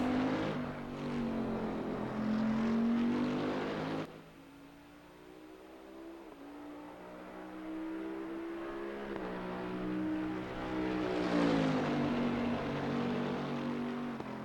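Bentley GT3 race car lapping Imola in Assetto Corsa Competizione, its engine droning and rising in pitch, briefly dropping off as it lifts for a corner, then climbing through the gears again at steady volume.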